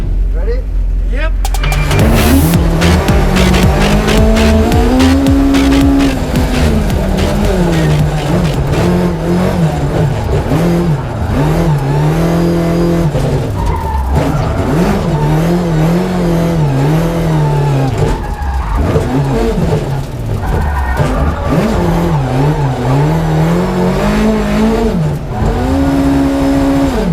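An Escort gymkhana car at the Gymkhana Grid in Greece, heard from inside with a passenger aboard. After a short lead-in the engine roars loud and close, revving hard up and down with tyre skids through sustained sliding runs.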